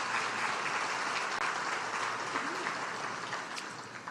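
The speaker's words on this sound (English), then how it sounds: "Let's give our elected officials a round of applause." An audience at a State of the Parish gathering applauds its elected officials, a dense, continuous round of clapping that holds steady and then begins to taper slightly near the end.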